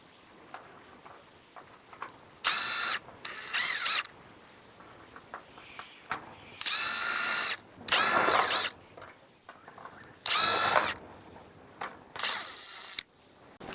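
Power drill-driver backing screws out of brackets, heard as about six separate loud whirring bursts of a second or so each, with quiet pauses and small clicks between them.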